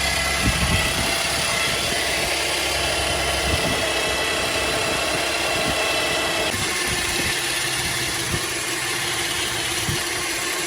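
Chevy Traverse engine idling with a power steering whine, a steady close-up mechanical drone with a thin high whine riding over the low rumble throughout.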